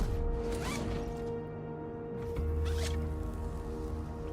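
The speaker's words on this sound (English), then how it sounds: "Another nice thing about silos is you can zip line up and take off." A zip line ride in the video game Borderlands: a whirring, zipper-like mechanical rasp with quick whooshing sweeps, steady and fairly close, with no talking over it.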